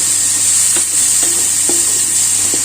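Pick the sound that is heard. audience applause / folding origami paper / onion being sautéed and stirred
onion being sautéed and stirred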